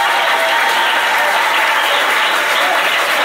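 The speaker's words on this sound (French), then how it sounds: "Acclamez très fort." A congregation claps loudly during a church service, a thick, continuous burst of applause that stays full and close for its whole length.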